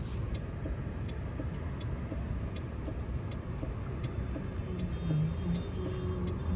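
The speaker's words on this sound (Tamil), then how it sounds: "செம்ம டிராஃபிக்காக இருக்குது." Steady road traffic rumble heard from inside a Mahindra BE 6 electric SUV, a continuous low drone of surrounding vehicles with faint ticking, filling the whole stretch without talk.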